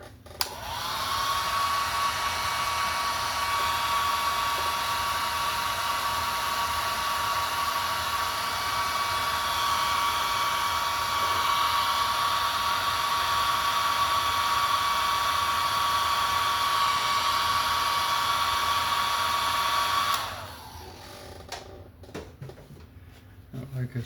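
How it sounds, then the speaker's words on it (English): A hair dryer blows a steady, loud whooshing roar over a freshly painted acrylic waterfall on a 14x11 canvas, running continuously for about twenty seconds before cutting off abruptly into quiet room noise. "I'm going to dry it off a little bit with my hair dryer"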